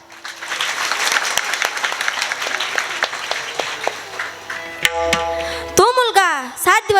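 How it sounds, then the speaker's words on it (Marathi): Kirtan audience applauding, a dense wash of clapping through the first few seconds that thins out, followed by harmonium-like tones and a singing voice. "एवढी पब्लिक असून पण टाळ्यांचा आवाज तर लय कमी आहे"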